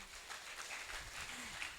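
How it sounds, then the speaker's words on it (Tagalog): A church congregation claps in a steady, dense patter of many hands, somewhat distant and moderately quiet, with faint low murmurs beneath. "Sige, pumalakpak yung may pangako ang Diyos sa kanya."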